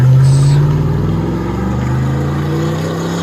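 Exhaust note of a 2002-2006 Cadillac Escalade with a 6.0L V8 and Dynomax Super Turbo muffler, a loud, deep, steady rumble with a slight rise in pitch as the engine revs gently.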